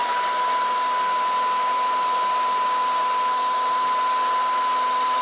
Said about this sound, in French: on va repasser à l'étape sèche-cheveux